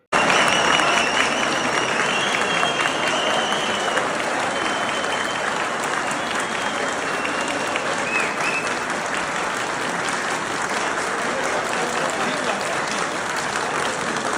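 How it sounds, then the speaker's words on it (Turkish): Shopkeepers in Istanbul's Grand Bazaar applaud a visiting Chinese search and rescue team, sustained crowd clapping that keeps an even level throughout, with faint shouts and whistles in the busy covered market. "Kapalı Çarşı'yı gezen Çinli ekip esnaflar tarafından alkışlarla karşılandı."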